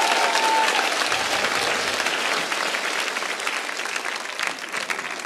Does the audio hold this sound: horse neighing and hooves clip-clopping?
no